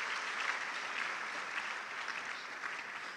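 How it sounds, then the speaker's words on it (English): Steady applause from a crowd at a university e-learning week event, sustained clapping at a moderate distance that stays even throughout. "Give them another round of applause, please."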